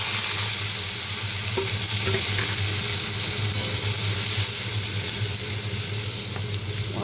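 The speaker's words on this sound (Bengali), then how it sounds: "এবার মাছ ভাজার তেলেই আমি একটা কাঁচা লঙ্কা ফোড়ন দিলাম, আর একটু জিরে ফোড়ন দিয়ে দিলাম।" Green chili and cumin seeds sizzle steadily in hot oil left from frying fish, a loud, continuous close-up crackle with a faint underlying hum and no voices.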